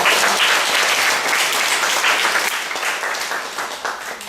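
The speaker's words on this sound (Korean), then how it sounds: "우리 학생들에서 박수 한번 쳐주시죠" Audience in a church auditorium applauding students, a dense, sustained wash of many hands clapping at full volume, fading slightly toward the end.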